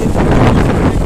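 Strong wind blows after a night storm near a bird house, roaring loud and steady against the microphone in gusty buffeting bursts.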